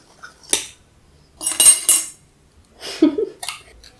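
Pancake batter is mixed in a bowl, heard as three short, separate bursts of clinking and scraping utensil strokes with quiet pauses between them and no talking.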